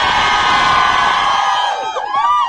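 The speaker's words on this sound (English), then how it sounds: "you want to hear them scream again?" A studio audience screaming and cheering at a radio show, a loud sustained crowd roar of high-pitched shrieks that swells and then breaks into overlapping wavering screams toward the end.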